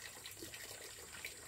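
Water running through a hose into a tilapia pond, a faint steady rushing and trickling wash with no breaks or voices.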